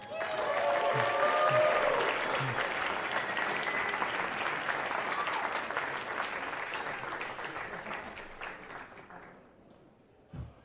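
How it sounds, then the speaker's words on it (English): An audience at a game conference talk claps loudly and steadily, with a few cheers at the start, before the applause thins and fades out. "Please give Grace a round of applause."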